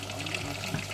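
Water pours steadily into a pot during home cooking, a brief close splashing stream.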